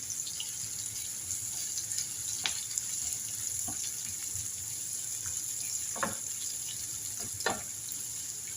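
Onions stir-fry in a pan for a chicken sandwich filling, giving a soft, continuous sizzle with a few brief scrapes of a spatula, fairly quiet and with no voice.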